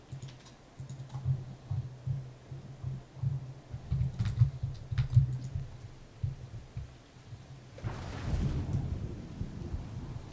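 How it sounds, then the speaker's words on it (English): Thunder from a storm in the video game Mind over Magic rolls in near the end as a swelling, broad rumble, after a stretch of soft clicking and low thumping game sounds; no voices. "Oh, it's a thunderstorm."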